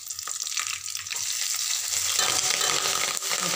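Curry leaves frying in hot oil for upma, a loud, steady crackling sizzle that starts with a few pops and swells into continuous spitting.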